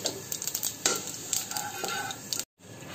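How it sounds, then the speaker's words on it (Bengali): Cumin seeds for tempering sizzle in hot oil left over from frying raw banana, a dense continuous crackle close by with a few sharper pops, then a brief cut to silence. "ইলিশ মাছ রান্নার জন্য আমি ওই তেলেই"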